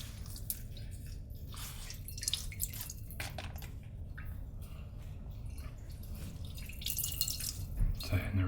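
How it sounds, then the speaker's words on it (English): Hands being washed under running water at a sink, a steady faucet stream with drips and wet squishing splashes throughout, close and fairly soft, with a voice murmuring quietly under the water. "I'll wash my hands a little bit."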